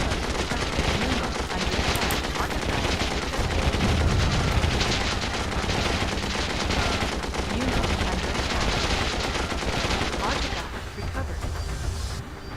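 Enemy base shot up in Warzone 2100, a real-time strategy game: a loud, dense, continuous barrage of rapid gunfire and blasts that rarely pauses, tapering slightly near the end.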